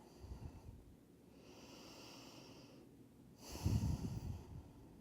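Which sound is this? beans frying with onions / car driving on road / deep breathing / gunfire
deep breathing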